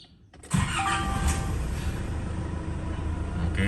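A Nissan Navara D40 pickup truck engine cranks and catches after a brief quiet moment, then settles into a steady, rumbling idle close by.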